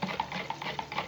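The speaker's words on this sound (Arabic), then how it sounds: "ادي 1 2 معلقتين سكر، وتقلبيهم بقى كده" A spoon stirs sugar into water in a glass for a pickling brine, giving quick, light, rhythmic clinks against the glass, close and fairly quiet.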